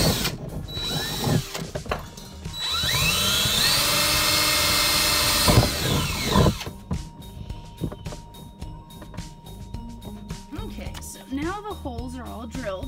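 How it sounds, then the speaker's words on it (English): A power drill bores holes through a plastic bucket, its motor whining and revving in bursts for several seconds, then stopping. Talking continues after the drilling and during quieter stretches. "All right, now we start the drilling."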